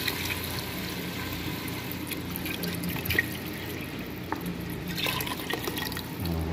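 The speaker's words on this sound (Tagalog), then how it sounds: "Lagyan natin na ng tubig." Water pours steadily into a cooking pot for salmon sinigang, a continuous splashing, trickling sound, with a few clinks of metal along the way and no talking.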